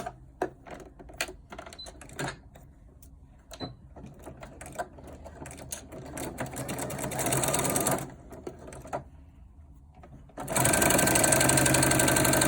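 A sewing machine stitches a seam on a cloth face mask, running in short bursts with clicks and handling noise, then settling into a longer steady, close whirring run near the end.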